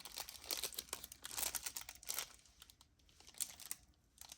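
A paper ink swatch card is folded over by hand, giving close, crisp crinkling and rustling in uneven bursts that quiet down partway through, with no voices.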